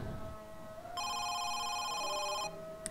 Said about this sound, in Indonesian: Oke, ada telepon.